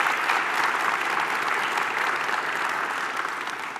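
Audience at the Miss Universe Croatia 2022 final breaking into loud, sustained applause, a dense wash of clapping that holds steady and eases only slightly toward the end.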